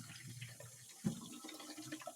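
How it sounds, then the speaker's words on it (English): Tap water runs softly into a bottle at a sink, a faint, steady trickle with a small splash partway through. "the next step now is to fill this the rest of the way with water"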